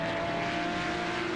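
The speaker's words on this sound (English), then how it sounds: "I just love that sound of that car." A steady engine drone from a Porsche GT3 Cup race car in iRacing, held at a constant pitch with a faint whine on top.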